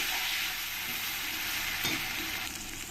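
Cumin-coriander paste being stir-fried with onions in a pan for chicken curry, a steady loud sizzle with faint scraping of stirring throughout.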